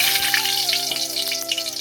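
Two large bay leaves sizzle in hot oil after potatoes have been fried, a steady crackling hiss with faint pops, close and moderately loud, with a soft musical tone underneath.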